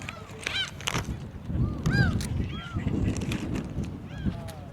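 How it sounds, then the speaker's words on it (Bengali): Herring gulls calling over a sea beach in South Korea, repeated sharp nasal cries from several birds against wind and surf noise, with faint voices in the background. "পাখিটার নাম হচ্ছে হেরিং গাল বার্ডস"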